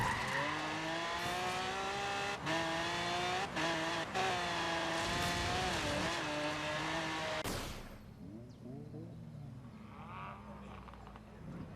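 A Lamborghini Miura engine in Forza Horizon 3 drones loudly and steadily near at hand, pitch rising and dipping through gear changes with brief tire squeals, then dropping away to a softer idle-like rumble near the end.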